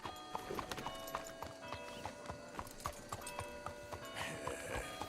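A horse in Red Dead Redemption 2 clops along with steady rhythmic hoofbeats, fairly close and quiet, with scattered sharper knocks and a brief whinny-like tone near the end.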